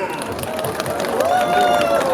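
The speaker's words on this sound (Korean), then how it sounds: "박수 한번 크게 부탁드리겠습니다" An outdoor crowd at a K-pop busking show in Yeouido Hangang Park gives a short burst of applause and cheering, a steady hiss of claps with a high voice or whistle rising over it.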